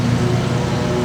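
A lawnmower drones steadily nearby while it cuts grass, giving a loud, unbroken engine hum with no change in pitch.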